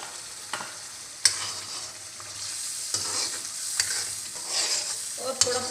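Tomato masala for fire chicken karahi sizzles steadily in hot oil, with a spoon stirring through it and a few sharp clicks and scrapes against the pan.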